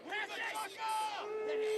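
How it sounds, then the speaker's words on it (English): Crowd at a varsity high school baseball game, Franklin v King Philip, boos an intentional walk: a sustained, moderately loud chorus of voices and drawn-out tones that swells and carries on through the moment. "the crowd's first time booing"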